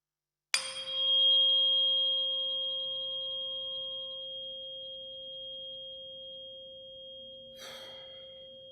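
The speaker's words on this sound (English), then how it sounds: "I'm going to switch to 528 hertz fork right now" A 528 Hz tuning fork is struck once and rings as a pure, steady tone that slowly fades over several seconds, followed by a faint breath near the end.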